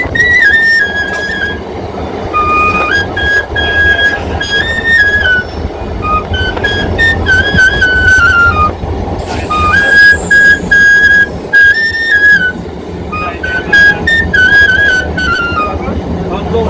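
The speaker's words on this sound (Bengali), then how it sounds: "ট্রেনে একজন খুব ভালো বাঁশি বাজাচ্ছিল" A man plays a bright bamboo flute on a moving train, with a continuous melody of sustained notes and quick runs over the loud, constant rumble and clatter of the carriage.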